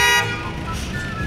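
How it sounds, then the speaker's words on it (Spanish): A car horn gives a short, sharp blast in traffic on Avenida Montes in La Paz, then gives way to a steady rumble of passing vehicles. "se tocan bocina fuerte, nos hace doler hasta la cabeza"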